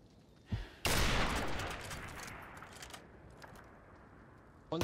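Video game gunfire: a sharp shot, then a loud burst of rapid firing that decays into scattered pops and echoes, with another abrupt shot right at the end.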